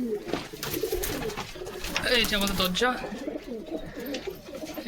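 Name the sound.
pigeons cooing in a pigeon loft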